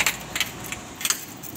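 A bunch of keys jangles in a few quick, bright metallic bursts, fairly close and moderately loud, with scattered clinks between them and no talking.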